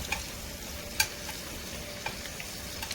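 Food frying in oil gives a soft, steady sizzle with a few sharp ticks and pops scattered through it, heard alone and fairly close.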